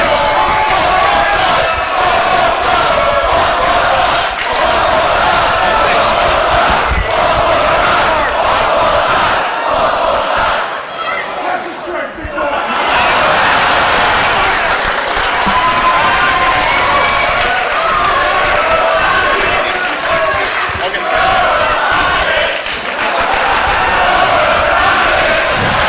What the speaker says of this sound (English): Listen to the mouths on this crowd.